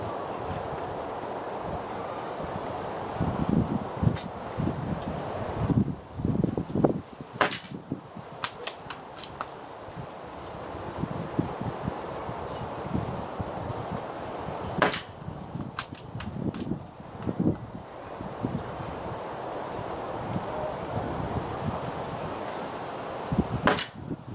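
BSA pellets fired from an air rifle at a target, several sharp cracking shots spaced apart, around 7, 9, 15 and 24 seconds, over steady outdoor background noise.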